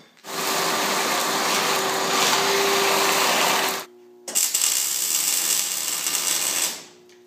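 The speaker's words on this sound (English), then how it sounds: "I need to grind off this point right here, and then this point back here" An angle grinder grinds down the points of a sweep plow's main hitch in two loud, steady bursts, about three and a half seconds and then two and a half seconds long, with a short pause between them and a constant high whine.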